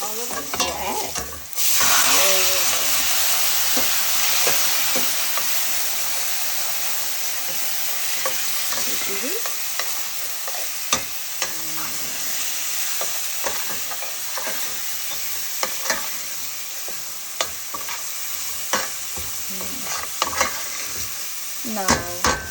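Lentils sizzle loudly in a hot pan with bottle gourd, a steady frying hiss broken by scraping spoon strokes as the mixture is stirred, close and continuous without talk.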